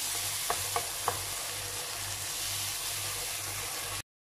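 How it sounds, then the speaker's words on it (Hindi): Yogurt being stirred into potato masala frying in a pan gives a steady soft sizzle, with three light clinks of a spoon near the start, close and quiet, no talking. "और अब इसके अंदर मैं शामिल कर रही हूँ जी दो टेबलस्पून तक दही और मिक्स कर लूंगी इसको मैं"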